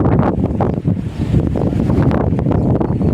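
Strong wind buffets the microphone in loud, continuous gusts, with a roaring low rumble throughout and no voices.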